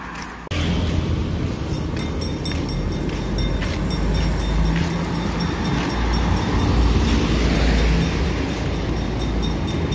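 An Indonesian KRL commuter train rumbles past close by, a steady heavy roar with rattling and faint high squeals, continuing throughout without voices.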